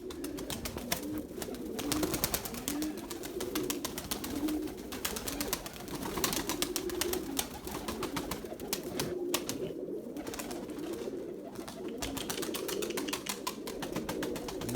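Purebred Erzurum white pigeons coo repeatedly in soft, rolling calls, close by and fairly steady, over a busy background of rustling and handling noise.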